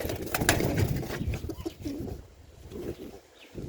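Pigeons in a Capuchin pigeon breeding loft in Jamaica, with soft cooing and rustling close by, the calls dense at first and then thinning to scattered coos.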